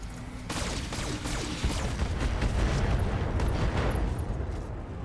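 Rapid weapons fire at a hunchback enemy in the video game Roguepoint: a dense, continuous fusillade of overlapping shots and booms that carries on throughout.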